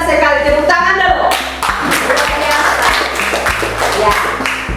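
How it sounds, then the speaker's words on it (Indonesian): A school class claps hands in a patterned rhythm of sharp taps, with voices chanting along throughout. "Tepuk tangan dulu."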